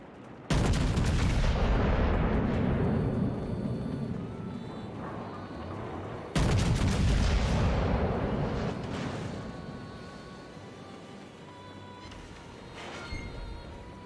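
Battleship turrets fire in World of Warships, with a tier VIII Kansas delivering two huge, near booming salvos several seconds apart, each ringing out into a long rumbling decay, with no speech.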